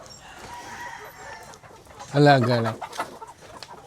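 Chickens on a rural farm in Nueva Ecija: soft clucking for a couple of seconds, then a loud close rooster crow, with a person speaking briefly near the end.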